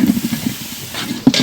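Tomatoes and masala hiss and sizzle steadily in hot oil in a pan for mutton dalcha, with soft stirring scrapes and a brief sharper burst near the end.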